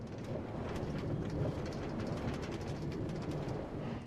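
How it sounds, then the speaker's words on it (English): Minecart rolling along a rail in Minecraft: a steady, dense rumbling clatter with faint rhythmic clicks, continuous and fairly close throughout. "This is what a Minecraft rail sounds like."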